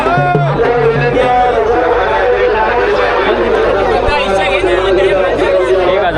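Dense crowd chatter from people gathered around a tempo to see the bull Bakkya Don, a steady outdoor hubbub of many overlapping voices with a few louder calls.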